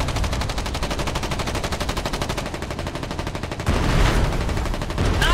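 Sustained machine-gun fire in the video game Foxhole, a loud, close, rapid and steady rattle that continues throughout, joined midway by a heavier burst or blast.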